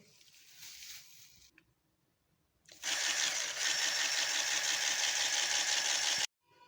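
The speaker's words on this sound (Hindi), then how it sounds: "अब हम इसको ब्लेंड करेंगे।" An electric blender mixes oil and sugar for a chocolate cake. After a soft, uneven rustle, the motor kicks in with a loud, steady whirring drone for about three and a half seconds, then cuts off abruptly.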